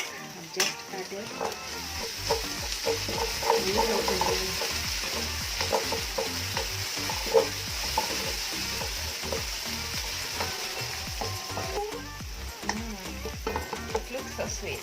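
Ginger and garlic fry in a pan for Kenyan pilau, a continuous sizzle with stirring and utensil scrapes throughout, close and steady. Occasional voice sounds may sit under it.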